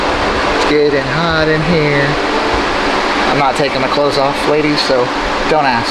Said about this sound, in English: Sorry for the noise again, guys. I got the fan on.